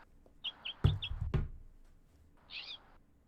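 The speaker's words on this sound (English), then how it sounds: "I hear some birds." Birds call outdoors with a few short high chirps, broken by a couple of sharp knocks, then a brief warbling call, all faint and distant.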